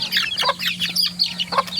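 Several hens cluck in short, busy bursts in a backyard, with a steady low hum underneath throughout.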